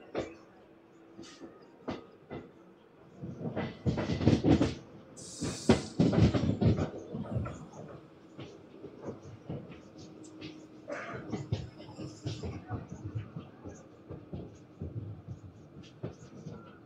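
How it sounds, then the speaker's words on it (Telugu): Palnadu SF Express 12747 pulling out of Sattenapalli station, with a low rumbling roll, sharp clicks and clanks, and a hissing surge in the middle, heard from on board at moderate loudness. "సత్తెనపల్లి స్టేషన్ నుంచి స్టార్ట్ అయిపోయింది మన పల్నాడు ఎక్స్ప్రెస్"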